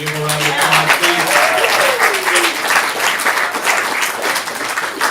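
Steady audience applause for a pair of comedians at a stand-up comedy show, loud and continuous for about five seconds, with a voice speaking over the start of the clapping.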